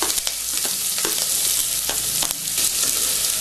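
Sliced large onion, curry leaves and dried red chillies frying in hot oil, a loud continuous crackling sizzle with occasional stirring clicks, close and without any voices.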